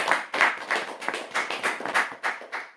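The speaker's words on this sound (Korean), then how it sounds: "자, 우리 박수 한번 합시다." A church congregation claps in unison, about ten even, rhythmic claps in a row, fairly close and clear, with no talk over them.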